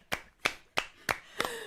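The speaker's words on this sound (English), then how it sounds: "keep clapping going" Five sharp, evenly spaced hand claps ring out close by in a slow steady rhythm, the last one followed by a faint trailing tone, during an online folk music session.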